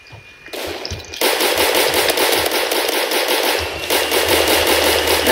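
Automatic gunfire from a gun in the Roblox video game, a loud dense rapid rattle of shots that starts after a short pause, breaks briefly, then resumes in continuous bursts.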